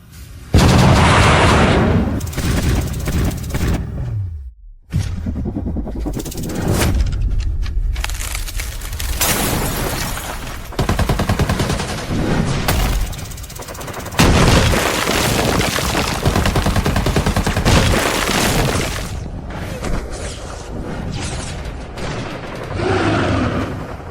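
Loud gunfire and heavy explosions from an animated fantasy battle drama roll on in long, booming waves with crackling bursts, broken by one brief near-silent gap before the barrage resumes.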